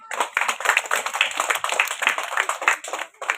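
Crowd applause for prize winners at a school flowers day event, a steady mass of hands clapping in quick irregular bursts, close and continuous throughout.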